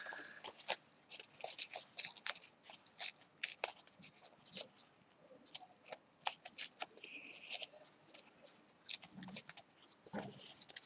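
A paper napkin is torn into small pieces up close and quietly, a run of short crisp ripping bursts and rustles with brief pauses between them, no talking.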